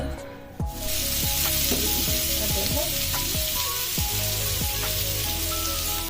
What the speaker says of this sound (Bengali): আলুটা মশলা দিয়ে কষিয়ে নিই